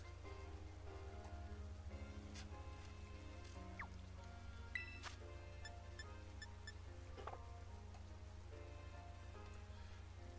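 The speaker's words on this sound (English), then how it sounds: "Come on, it's just a little rain." Rain in Pokemon Violet, a steady soft patter of drops under a constant low hum and gentle game music, faint and continuous.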